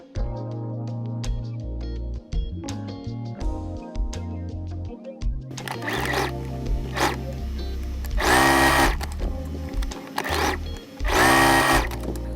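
A sewing machine stitches a French seam on thin, soft fabric, with quiet handling sounds first, then short whirring bursts of stitching that grow louder toward the end.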